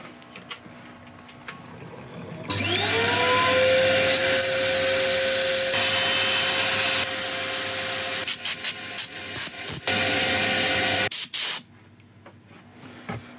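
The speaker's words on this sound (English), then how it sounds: "Right, I'll set up for sanding." A power sander works on a wooden bowl. A loud motor hum starts abruptly and holds a steady whine with a rising tone at first, then cuts in and out with short gaps before stopping near the end.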